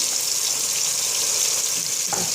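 Onion frying with chicken meatballs in a pan, giving a loud, continuous close-up sizzle that fills the whole moment, with a faint stir near the end.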